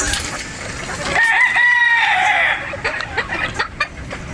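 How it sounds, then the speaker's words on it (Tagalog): Boston Roundhead pullets on a game farm in Batangas, one giving a loud, strained crow up close, followed by scattered clucks and farmyard background noise. "Ayan po yung ating mga Boston Roundhead na pulit."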